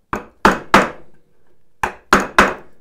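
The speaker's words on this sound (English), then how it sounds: "I'm gonna cut down a little bit deeper with the chisel here" Chisel struck by a mallet, cutting deeper into wood for a lapped dovetail joint held in a vise: two bursts of three sharp, close, percussive knocks separated by a short pause, with no talking.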